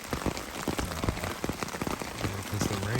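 Heavy rain pours at night over a hammock camp on the Appalachian Trail at Roan Mountain in winter, with close, dense drops pattering on fabric in an uneven, continuous rush.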